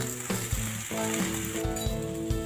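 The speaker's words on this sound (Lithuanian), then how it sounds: "Įkepam." Vegetables fry in oil in a pan, salted, in a steady close sizzle, with a few scraping stirs and clanks of the utensil over the hiss.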